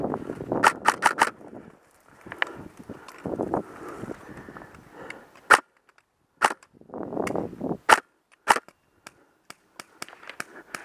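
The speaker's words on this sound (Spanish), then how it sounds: "Me tiene enfilada una ametralladora." Airsoft machine gun fire at an outdoor airsoft event, sharp snapping bursts and single cracks scattered across the clip, fairly close, with wind and rustling between shots.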